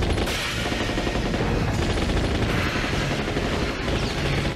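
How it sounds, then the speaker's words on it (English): Dense, continuous gunfire from the James Bond film Tomorrow Never Dies crackles without pause, rapid shots blending into a loud, chaotic barrage with no talking. "So much gunfire!"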